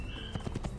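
Horse in the Assassin's Creed video game, a quick run of four soft hoof clip-clops under a steady game background hum, brief and fairly quiet.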